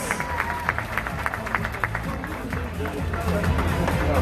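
Audience clapping at a beauty pageant preliminary competition, mixed with crowd noise and talk.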